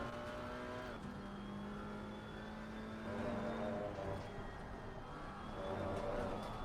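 A GT4 race car in Assetto Corsa Competizione on the Nürburgring holds a steady engine note that climbs as the throttle opens, with a second rise near the end and faint tyre noise, alone without talk.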